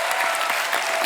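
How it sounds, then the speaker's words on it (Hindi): Studio audience applause for the cast of a comedy talk show, a brief burst of dense, steady clapping heard clearly without talk. "पूरी कास्ट के लिए एक बार जोरदार ताली"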